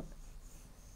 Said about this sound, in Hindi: first of all you have to right it down the name of your school